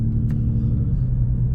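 A 2000 Jeep Cherokee Sport XJ with a Titan 4.7 stroker engine idles with a deep, steady low rumble, close and even throughout.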